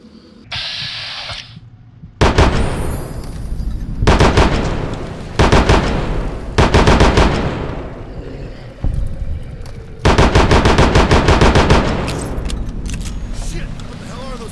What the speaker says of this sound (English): We heard gunshots.